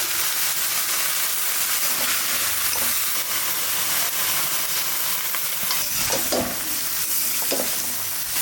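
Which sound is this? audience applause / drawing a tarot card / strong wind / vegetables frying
vegetables frying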